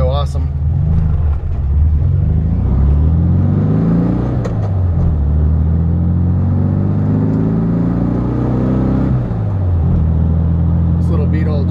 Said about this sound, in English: This is a 1968 Volkswagen Beetle, and we're gonna take it for a quick drive.